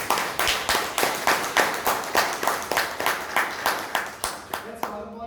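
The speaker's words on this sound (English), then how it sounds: "A round of applause for us." A small group at a Toastmasters club meeting in Bangalore claps in a short, rhythmic burst. Individual claps land in even repeated pulses, and the sound stops abruptly at the end.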